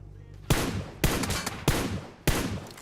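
Four sharp gunshots crack at regular intervals, each trailing a long echoing tail, like distant sniper fire in PUBG Mobile on the Erangel map.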